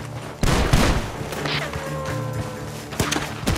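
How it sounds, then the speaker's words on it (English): Gunfire in the video game Red Dead Redemption 2 comes as several sharp, loud shots. A heavy burst lands early, then isolated cracks follow with reverberant tails and faint background game sounds. "Gunshots are coming from that barn!"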